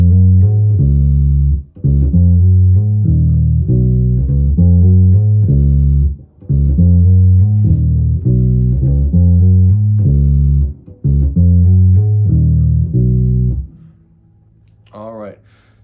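Bass guitar plays a riff in repeating deep, sustained note phrases with brief pauses between, loud and close, ending with a short fade and a faint high tone.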